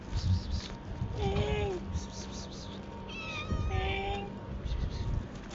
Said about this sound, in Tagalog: Oh, cute ang pusa.